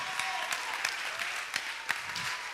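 Steady applause from a church congregation, dense rapid clapping with a few sharper claps standing out, moderately loud throughout.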